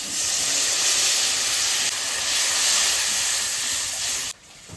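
Loud, steady sizzling hiss as water is poured onto hot fried spice masala in a pan, sustained for several seconds before cutting off abruptly near the end.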